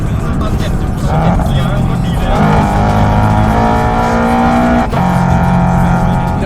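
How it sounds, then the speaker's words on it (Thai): A tuned car with aftermarket parts revs hard through its exhaust, a loud close engine roar climbing and falling through several throttle bursts, with a person talking over it. "ดูเสียงด้วย ดูเสียงท่อด้วย"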